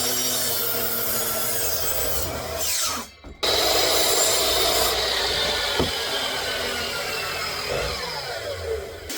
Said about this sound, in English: So first I got to rip down some 2x.